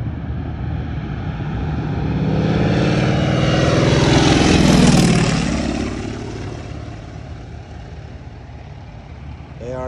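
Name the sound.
propeller airplane making a low pass at an airshow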